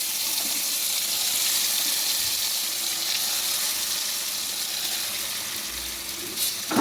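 Mustard-coated hilsa fish pieces are laid into a hot pan, producing a steady, even hiss of frying that carries on throughout, close and fairly loud, with a slight knock near the end and no voices.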